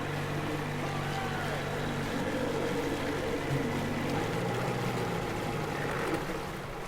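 In Metro Exodus, a boat engine gives off a constant motorboat drone with a churning, watery rumble that holds steady throughout, with faint voices underneath.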